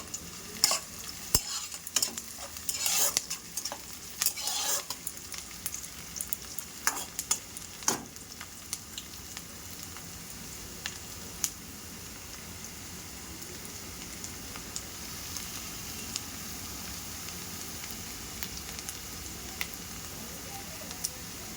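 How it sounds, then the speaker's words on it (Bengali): Onions frying lightly in a little oil in a pan for a home-cooked fish dish: a quiet, crackly sizzle with scattered sharp stirring clicks and scrapes, no voices. "পেঁয়াজটা লাল লাল করে ভাজা করে নেব।"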